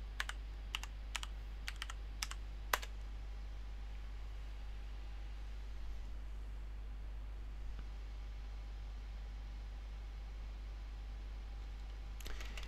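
Login details are typed on a computer keyboard for a Raspberry Pi, heard as a quick cluster of close, crisp key clicks, then a long quiet stretch over a steady hum and a few final taps near the end.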